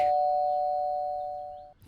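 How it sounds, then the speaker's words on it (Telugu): An electric calling bell at a house door sounds once as a loud, clear, sustained electronic tone that holds steadily for almost two seconds before cutting off abruptly. "calling bell మోగుతుందిరా"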